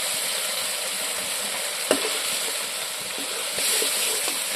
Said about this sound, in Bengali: টক দইয়ের সঙ্গে মশলাটা ভালো করে আমি আবারও মিক্স করে নেব।